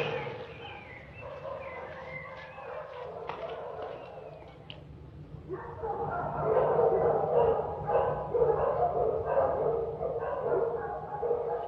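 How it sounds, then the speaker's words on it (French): Several dogs bark, yip and whimper continuously at a moderate distance, growing louder and busier in the second half, in a 1960 film scene. "Ces chiens. Il y en a combien?"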